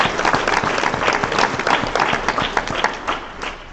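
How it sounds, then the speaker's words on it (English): An audience at a school board meeting applauds a high school wind ensemble, with loud, dense clapping that carries steadily for a few seconds and then begins to thin out. "So give them a round of applause."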